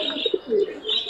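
Pigeons coo at a crowded pigeon market in Mirpur-1, soft throaty calls and a couple of chirps overlapping close by against busy background murmur.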